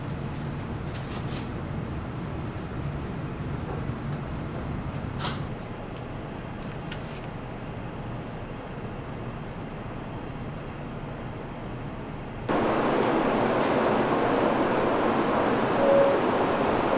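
A Kodama Shinkansen train ride from inside the carriage, with a steady low rumble and hum of the moving train that grows louder and brighter toward the end, continuous and without speech.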